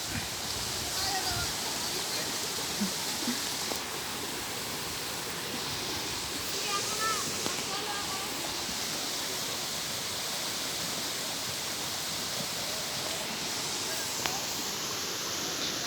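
Steady broadband rush of water flowing in a river that children wade across on the way to school, continuous and close, with faint voices now and then beneath it.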